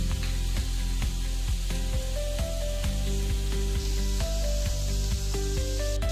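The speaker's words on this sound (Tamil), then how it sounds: "வெங்காயம் கொஞ்சம் நல்லா வதக்கட்டுமா?" Sliced onions sautéing in oil for a Kerala-style vegetable kurma give a steady sizzle, with rhythmic tonal music running through the whole stretch.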